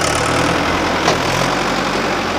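A Mahindra 585 DI XP Plus tractor engine idles steadily at close range, a constant low, rumbling drone that holds an even level throughout with no talk.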